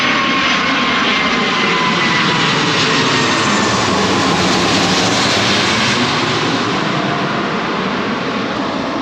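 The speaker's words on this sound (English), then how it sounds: "Oh, there's a plane." An airplane roars low overhead above a Montreal neighborhood, a loud, steady, broadband engine rumble filling the whole stretch without speech.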